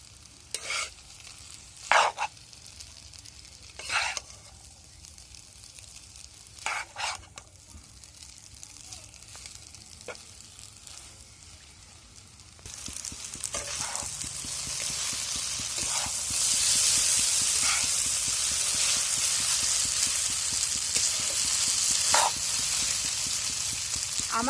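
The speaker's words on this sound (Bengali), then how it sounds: "নুডলসের মশলা দিয়ে দেব, এগুলোকে মিক্স করে নেব আমি।" Noodles tossed with spice mix in a frying pan, a steady sizzle rising midway as stirring scrapes and clinks repeat in short bursts, close and fairly loud with no talk.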